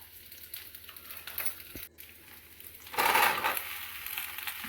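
Onions, green chillies, mustard seeds, fenugreek and cumin frying in a pan, with a steady close sizzle that swells into a louder burst of hissing partway through.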